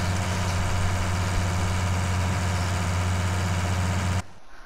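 A 3090 tractor in the Farming Simulator 19 video game labours uphill with a loud, steady engine drone that cuts off abruptly just before the end.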